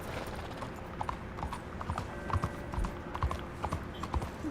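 Steady clip-clop of horse hooves trotting in Red Dead Redemption 2 over a busy, noisy background, even in rhythm and moderately close.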